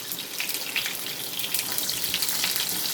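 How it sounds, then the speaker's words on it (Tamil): Small onions fry in hot sesame oil with a steady close hiss and crackle, moderately loud and continuous with no talk. "இப்போ நம்ம சின்ன வெங்காயம் போட்டுக்கலாம் பொரிஞ்சிச்சு தான் சின்ன வெங்காயம் போட்டுக்கலாம்"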